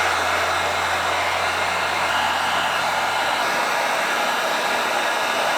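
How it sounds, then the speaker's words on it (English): Heat gun blows a steady, loud, even airflow roar while heating and softening a plastic fender eliminator on a Honda CRF300L motorcycle, continuous and close with no talk. "I'm gonna get underneath here with the heat gun as I push down on it to try to mold and shape this thing a little bit"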